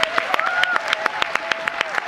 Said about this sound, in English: Can we give a round of applause to Elsa Fanjora one more time?